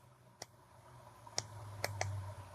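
Buttons are pressed on a LiJIANI RD231 pocket radio, giving four small dry clicks spaced irregularly over a low steady hum, close and faint.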